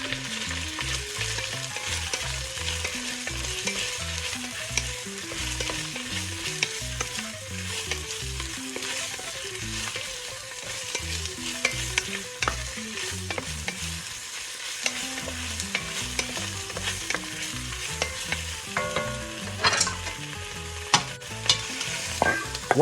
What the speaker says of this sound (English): Add the sausage and sauté for about 3 to 4 minutes.